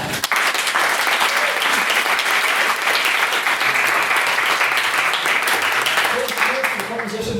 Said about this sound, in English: Another round of applause for our main speaker, Mrs. Councillor McCann.